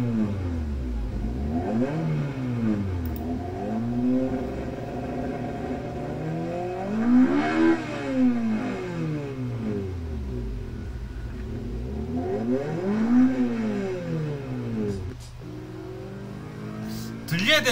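A car's Yamaha-built engine revs repeatedly with a motorcycle-like sound, pitch sweeping up and down in several waves, with a steady hum underneath and a voice talking at times.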